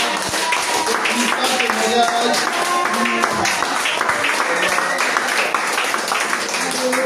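A church congregation at a worship service applauds with continuous clapping, loud and sustained throughout, while voices sing and talk over it.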